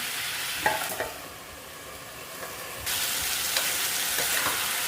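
Tomatoes cooking for tomato pachadi are stirred in a pan, giving a steady sizzle with scraping spoon strokes, close and moderately loud, growing slightly louder partway through, with no talking.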